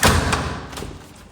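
A door that a locksmith has just adjusted is opened and shut, giving a couple of close, dull thuds followed by a fading rattle of the door settling.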